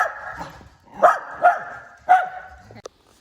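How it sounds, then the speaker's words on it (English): Layla, a dog, barks three or four times in sharp, spaced yips that are fairly close and alone, ending in a short squeak. "Typical Layla there, barking at everything."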